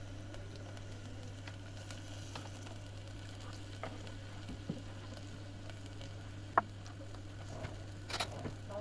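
Chopped onions frying in oil in a pan, a faint, steady sizzle with a constant low hum beneath and a few soft clicks and taps from utensils.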